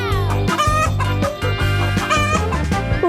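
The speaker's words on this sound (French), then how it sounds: "Je pense que cette poule veut prendre notre poussin." A hen clucks loudly and repeatedly in quick, busy bursts close by, with no talking.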